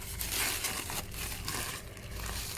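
Packaging from a subscription box is handled as a sticker seal is peeled, giving soft crinkling and tearing rustles in several quiet bursts.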